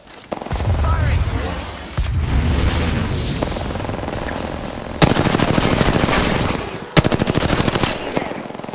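Video game gunfire, loud rapid automatic bursts in long stretches with a short gap between them, alongside heavy booming weapon sounds and a rumbling battle din.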